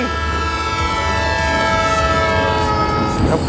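A train's horn blares loudly in a long, sustained multi-tone blast over the rumble of the train approaching along Hanoi's Train Street.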